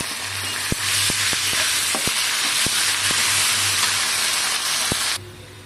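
Ginger-garlic paste hits browned onions in a hot pan, setting off a loud, steady sizzle with scattered stirring taps that cuts off sharply near the end.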